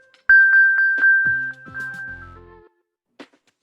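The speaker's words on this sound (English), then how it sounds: "To help find a nearby device, tap Play Sound. Your device plays a chime," The Find My Play Sound chime on an iPad sounds as a loud, clear series of bright electronic pings and ringing tones that fades out, with one short ping after a pause.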